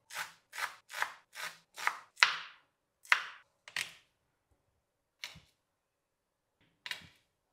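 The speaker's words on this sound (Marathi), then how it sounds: "आता कोथिंबीर, आलं, हिरवी मिरची एकदम बारीक चिरून घेऊ" A knife finely chops coriander, ginger and green chili on a board: six quick, even, close strokes, then a few scattered chops with pauses between them.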